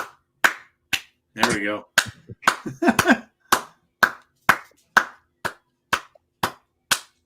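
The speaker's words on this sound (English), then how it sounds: "I'll give him a regular clap" A single person claps hands at a steady, unhurried pace, about a dozen sharp close claps spaced roughly half a second apart, with a brief burst of speech in the middle.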